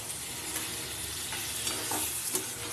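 Spiced lentil fritters sizzle in a frying pan while a spoon stirs them with soft, intermittent scraping sounds under a steady frying hiss.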